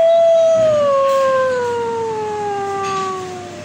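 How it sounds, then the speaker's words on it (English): A recorded wolf gives a single long, loud howl, a clear sustained tone that slowly slides downward and fades slightly toward the end, with no other sounds around it. "Now we are going to listen the music and sound of animals like wolf."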